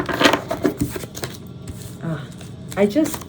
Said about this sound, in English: I'm gonna shuffle and talk to the deck in the way that I like to do